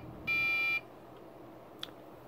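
A microcontroller piezo buzzer in a student-built jukebox music player gives a short, loud electronic tone burst lasting about half a second, followed by quiet room noise and a faint click.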